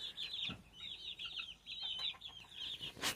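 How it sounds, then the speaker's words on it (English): Baby chicks peep in rapid, high, thin chirps, many overlapping near the microphone in a steady flurry with faint background rustling and a brief knock. "baby chicks."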